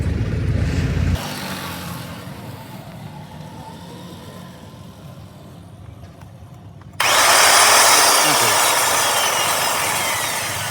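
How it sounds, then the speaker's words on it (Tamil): An electric drill whirs steadily at low volume, then roars loudly for the last few seconds as it bites into material, close by. "ஒரு ட்ரில் பிட் எடுத்து ஓட்ட போட்டால் வேலை முடிஞ்சுங்க"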